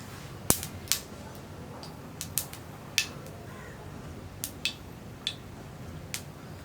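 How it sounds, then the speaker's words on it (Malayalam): Mustard seeds popping in hot sesame oil while tempering for a mango pickle: about ten sharp, scattered pops and crackles at irregular intervals, fairly soft against a quiet kitchen background. "കടുകൊന്ന് പൊട്ടിത്തുടങ്ങട്ടെ."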